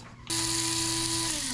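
Whole cloves ground in an electric grinder in a home kitchen: the motor kicks in abruptly after a brief quiet start and holds a loud, steady high whir that drops slightly in pitch near the end.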